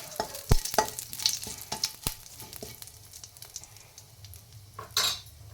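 Curry leaves crackle and spit in hot oil while a metal utensil scrapes and knocks against the pan, giving sharp irregular clinks over a low sizzle and a louder burst of spattering near the end.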